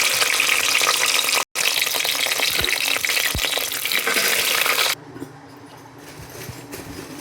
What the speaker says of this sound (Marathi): हे जे वांगे तळून घ्यायचे, त्याच्यानंतर भेंडी तळून घ्यायची